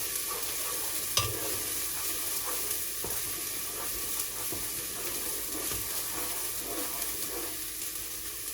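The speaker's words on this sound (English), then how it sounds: "I have the warm oil, so I put garlic and onion first of all." Garlic and onion frying in warm oil for Bosnian beef goulash. A constant bright sizzle plays close by, with a sharp utensil knock and a few soft scrapes from stirring, and no one speaks.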